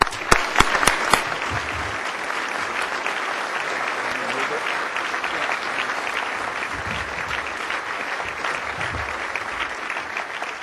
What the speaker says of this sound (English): join me in a warm round of applause for Ontario's Minister of Finance, Dwight Du